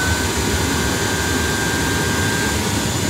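A high-temperature casting burner with an oxygen lance assist roars continuously as the air is turned up while melting a brake rotor, a dense, steady, loud rush close by with no speech.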